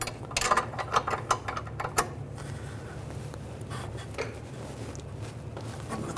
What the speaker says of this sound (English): if you can get a torque wrench on the nut side, you want to torque that to 47 foot-pounds